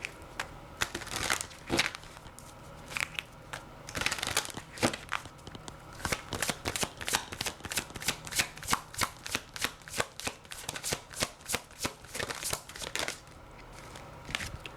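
Oracle cards being shuffled by hand, close and crisp, with repeated riffling bursts and flicks settling into a fast, even rhythm of card slaps, fairly quiet overall.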